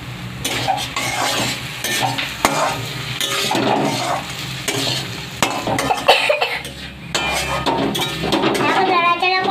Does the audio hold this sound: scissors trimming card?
no